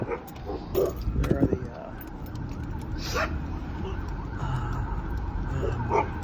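A Rottweiler barks behind a fence amid a noisy outdoor scene, with a few sharp barks early on under steady rumbling background noise.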